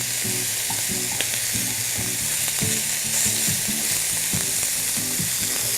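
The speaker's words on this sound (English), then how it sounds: "let's just make sure that the meatballs are browned well on all sides" Pork meatballs brown in a hot pan with a loud, constant sizzle and spatter, joined by intermittent scraping and rhythmic stirring knocks from a utensil, with no voices.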